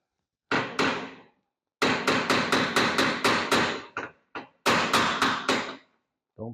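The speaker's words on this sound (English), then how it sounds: "Don't pick on my little shoemaker hammer either." A small shoemaker hammer taps on exterior front trim of a 1968 Chevy Impala Fastback during teardown, sharp metallic strikes in quick bursts of steady blows separated by short pauses, close and loud with no voices.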